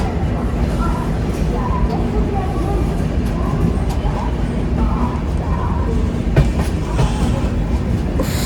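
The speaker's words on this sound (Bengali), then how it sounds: "আজ আমাদের এই ট্রেন নির্ধারিত সময়ের প্রায় দেড় ঘন্টা লেটে চলছে এখন আবার স্লো যাচ্ছে খড়গপুর ঢুকছে বলে" A long-distance Duronto Express passenger train slowing as it enters Kharagpur station, a steady loud rumble of wheels and carriage noise with faint clatter throughout, and a murmur of voices inside the coach.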